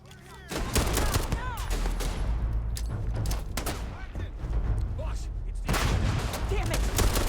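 Starfield video game firefight with rapid overlapping gunshots and bursts, including shotgun blasts, dense and loud throughout with sharp cracks at the start and near the end, alongside occasional speech.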